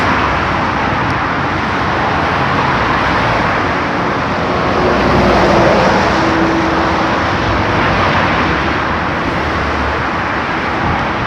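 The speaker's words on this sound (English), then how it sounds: "I am near the highway, guys." Steady roar of highway traffic in Casablanca, a continuous broad rush of passing vehicles that swells slightly midway, with no one speaking.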